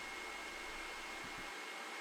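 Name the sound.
hair dryer melting chalk wax into sandpaper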